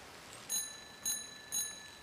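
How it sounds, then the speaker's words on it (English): A bicycle bell rings three times in an even rhythm, each a bright, quick metallic ding, fairly faint against a quiet background with no speech. "Hey, I have a bell."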